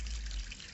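Water runs continuously in a cat's drinking fountain, a close, steady trickling splash with a faint low hum underneath, brief and without voices.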